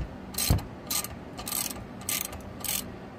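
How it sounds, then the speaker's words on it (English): A ratchet wrench tightens a nut on SumoSprings fitted to a fifth-wheel RV, giving five short bursts of rapid metallic clicking at a steady rhythm, close up and alone. "Let me go ahead and tighten this nut down."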